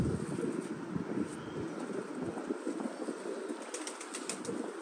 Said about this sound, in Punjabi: ਚੈੱਕ ਕਰੋ ਕਿਸਾ ਅੱਛਾ ਤੇਜ਼ ਪਰ ਦਾ ਕਬੂਤਰ ਹੈਗਾ